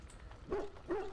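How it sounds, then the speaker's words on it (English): A dog in the Dragon Age: Origins video game lets out two short, close barks in quick succession over a faint low background. "What are you barking about, Bob?"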